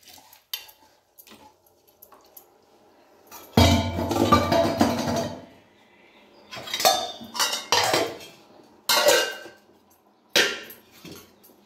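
A spoon stirs sago and split Bengal gram lentils around a pot for jaggery payasam, giving scraping and clinking bursts: one long churning stretch, then several shorter separate scrapes between quiet pauses.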